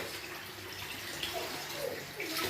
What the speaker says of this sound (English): So rinsing away.